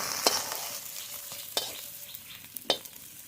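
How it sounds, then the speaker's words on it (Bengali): Spices frying in a pan for a jackfruit curry, heard as a soft, faint sizzle broken by a few sharp scraping stirs of a spatula, spaced out and close. "মশলাটা খুব ভালো করে ভেজে নেব।"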